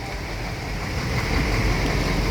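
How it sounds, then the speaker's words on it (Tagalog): Steady light drizzle hisses softly and continuously outdoors, with no voices or other distinct sounds. "Medyo ambon-ambon na lang."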